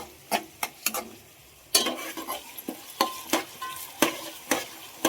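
Mixed vegetables with soybeans frying in a pan, a soft continuous sizzle broken by a series of sharp spatula scrapes and taps against the pan at an uneven rhythm, close and clear.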